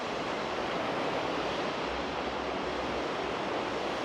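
Steady, loud rush of a fast-flowing river in Tashkent, Uzbekistan, a continuous broadband roar with no pauses and no voices.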